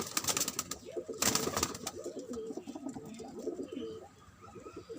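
Pigeons coo steadily in soft overlapping phrases at a Sufi shrine courtyard, with a few brief clattering sounds and light background ambience.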